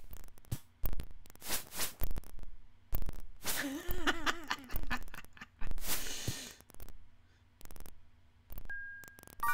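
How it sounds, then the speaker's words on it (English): Creaky, warbling creature-movement effects from the Eye of the Beholder video game, credited to a hellhound, come in short bursts separated by quiet gaps. "I thought that was the dog we were hearing. Its limbs creaking."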